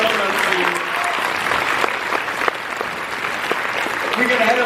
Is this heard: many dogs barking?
no